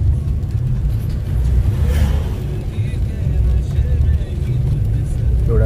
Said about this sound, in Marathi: थोड्या रात्रीचं असं ड्रायव्हिंग करायला छान वाटतंय.